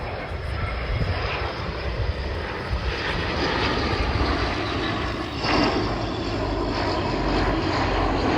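A Breguet Atlantique maritime patrol aircraft flies past at the RIAT airshow, its turboprop engines making a loud, sustained roar and propeller drone that holds steady throughout, heard from the crowd line with no talk.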